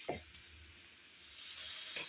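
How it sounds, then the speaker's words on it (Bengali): Soft, steady sizzle of fenugreek leaves frying in a pan on a gas stove, with a couple of light scraping stirs, quiet and close. "শাক ভাজাটা আমার একদম রেডি হয়ে গেছে মেথির শাক ভাজাটা"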